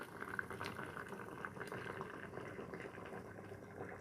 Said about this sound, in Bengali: আমটা সিদ্ধ হচ্ছে